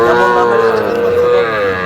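Cattle moo loudly and continuously at close range at a livestock market, a deep drawn-out lowing that holds for the whole moment with no talk over it.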